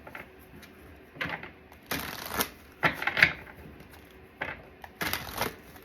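A tarot card deck being shuffled in several quick riffling bursts separated by short pauses, close and fairly quiet in a still room.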